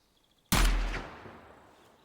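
A single loud .30 caliber rifle shot in the video game Gunsmith Simulator, sharp and close after near silence, followed by a long decaying echo rolling out across open ground.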